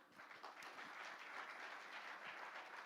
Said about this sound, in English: and a very warm applause to them